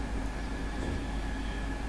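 S-Bahn train running in the video game Train Simulator, a steady low rumble of wheels and motor with a faint constant whine, continuous and close throughout with no talk.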